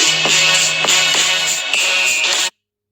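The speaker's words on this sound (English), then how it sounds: "My phone just rang." A phone rings loudly in a quiet room during a painting session, its repeating electronic tone pulsing in steady bursts for about two and a half seconds before cutting off abruptly.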